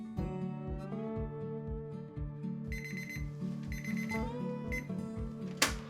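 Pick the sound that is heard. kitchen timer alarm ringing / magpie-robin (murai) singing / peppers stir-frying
kitchen timer alarm ringing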